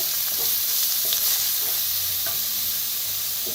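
Ground spice paste for vada pav sizzles and fries in a pan with a little oil, a steady close hiss broken by faint stirring scrapes, with no talking.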